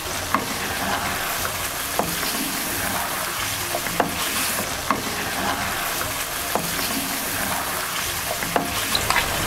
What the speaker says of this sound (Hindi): मसाले ऐड करने के बाद इसे थोड़ा सा हम फ्राई करेंगे।